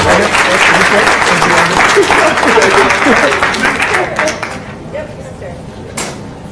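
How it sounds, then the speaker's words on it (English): Loud applause from an audience at a school board of education meeting, dense steady clapping that tapers off over the last couple of seconds while voices carry on underneath. "So how about a round of applause for Tina Forte back there?"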